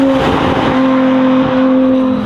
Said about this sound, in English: Missed the shift. Is that what that was?